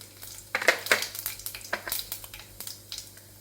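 Cumin seeds sizzle and crackle in hot oil in a pan, with bright spattering pops and a scraping spoon stirring them. The sound is close, steady and free of talk.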